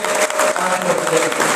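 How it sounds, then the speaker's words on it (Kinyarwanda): A church congregation claps for Jesus during a sermon, a dense continuous patter of many hands filling the room without pause, with voices mixed in. "Reka Yesu tumukomere amashyi."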